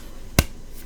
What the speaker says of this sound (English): Nobunaga laughed and clapped that fan on his hand.